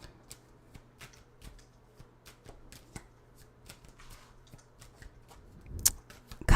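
Tarot cards shuffled by hand at close range, a soft run of riffling flicks and taps with a louder slap near the end, no voices.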